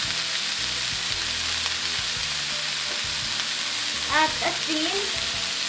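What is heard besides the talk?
celery stalks and broccoli stir-frying in oil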